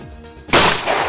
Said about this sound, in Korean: 마침내 탕 하며 울려 퍼지는 총성